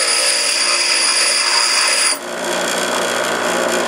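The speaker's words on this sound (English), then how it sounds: "Surprising how flat and smooth you can make things with a grinder if you turn on the wheel a little bit as you go." A grinder smooths a metal part for a dirt drag motorcycle with a 13B rotary engine, giving a loud, steady, close whine that dips and shifts in pitch partway through, with no talking.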